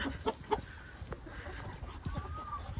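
Retired laying hens clucking on a foggy day, a few close, sharp clucks at first, then softer scattered calls over a steady outdoor rumble.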